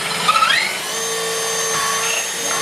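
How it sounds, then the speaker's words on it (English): A power drill bores through crown molding from the back side, giving a steady, loud whirring whine that rises in pitch early on and then holds evenly for the rest of the clip. "So we're going to drill from the back side and see exactly where we need to bolt it on at."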